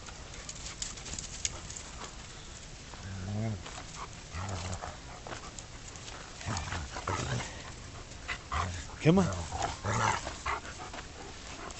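Puppies pant, whimper and give occasional small barks outdoors, the sounds coming in scattered bursts close by while a person talks to them now and then.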